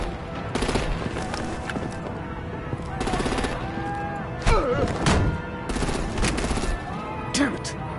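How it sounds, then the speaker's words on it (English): Gunfire and artillery in the Batman: Enemy Within video game: bursts of rapid shots and thuds come in several waves across the clip, mixed with voices, music and other action sounds. "Break out the artillery and disable their vehicles!"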